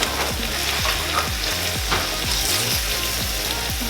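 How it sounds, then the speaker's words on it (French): Chopped onions and meat frying in hot olive oil in a pan, a continuous loud sizzle with repeated scraping stirs every half second or so, close up with no talk. "Donc on vient faire revenir ces oignons"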